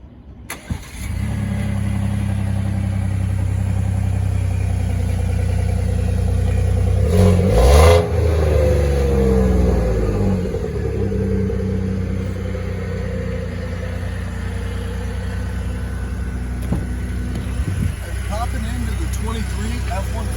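A 2023 Ford F-150 Platinum with the 3.5 engine cold-starts: a brief starter crank, then the engine catches with a rising flare and settles into a steady, loud idle.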